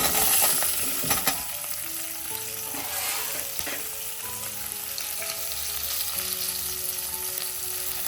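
Ivy gourd and green chillies fry in hot oil with mustard and cumin seeds, a loud continuous close sizzle with occasional stirring clatter and scraping in the pan.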